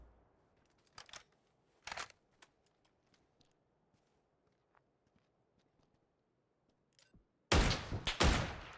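Gunfire in the battle royale shooter PUBG: a few sharp isolated shots early on, then a loud dense burst of rapid fire near the end, with quiet gaps and faint clicks between, no talk.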